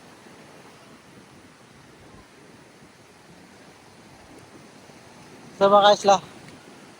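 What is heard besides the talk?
strong sea waves on Boracay beach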